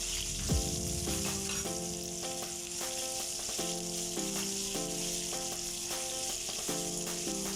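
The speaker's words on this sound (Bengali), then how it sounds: "এইগুলোকে সামান্য উল্টোপাল্টা করে ভেজে নিয়ে" Chopped mango and ridge gourd sizzle steadily in a hot pan while soft background music with a repeating melody plays underneath.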